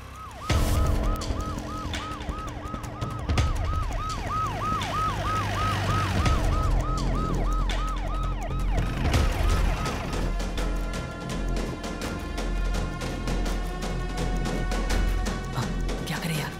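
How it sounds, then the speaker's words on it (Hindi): A police siren wails in a rapid, repeating rise and fall, loud and close, followed by a steady pulsing alarm tone with talk underneath. "पुलिस की सायरन की आवाज आई थी"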